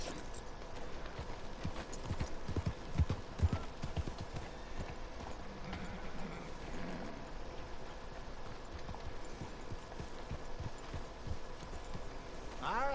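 Horse hooves clip-clop steadily on the ground in the video game Red Dead Redemption 2, a continuous moderate rhythm under ambient game sound, with faint talk in places.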